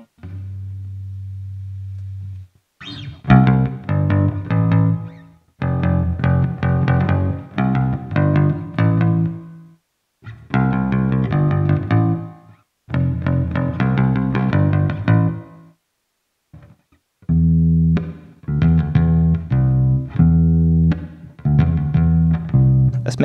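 Bass guitar riffs through a Boss RV-5 reverb pedal on its hall setting, repeated in several phrases with short pauses between, each note washed in a spacious hall reverb tail; no voices.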